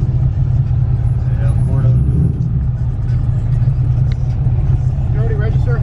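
A Chrysler 300C rumbles steadily with a deep, constant engine drone at a large Indiana car event pit, under loud crowd chatter and voices throughout.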